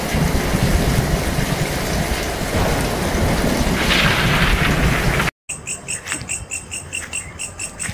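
Heavy rain pours steadily with a rumbling roll of thunder, then the sound cuts to a quieter night scene with crickets chirping in pulsing rhythm.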